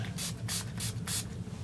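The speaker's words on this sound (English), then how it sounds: "this says it's the NYX like finishing spray, but it's just water, and I'm just gonna wet my brush" Water misted from a NYX finishing spray bottle onto a makeup brush: four short, hissing spritzes in a steady rhythm, close and fairly soft, with a low hum underneath.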